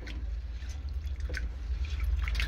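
Masoor lentils are being rinsed in water, giving soft, close trickling and dripping sounds over a low steady hum, fairly quiet and continuous.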